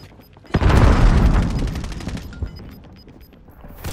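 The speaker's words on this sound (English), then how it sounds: "Grenades flying." Grenade blasts and gunfire in a Call of Duty Warzone match: a loud boom strikes half a second in, followed by a rapid volley of close shots that thins into scattered pops and fades.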